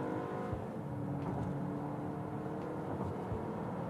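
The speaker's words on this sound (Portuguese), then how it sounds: "sentirem aqui esses 204 cavalos desse B48" A 2023 BMW X1 M Sport with the 204-horsepower B48 turbo four-cylinder accelerating up a hill, heard from inside as a steady, loud engine drone with road and tire roar that holds throughout, no voices.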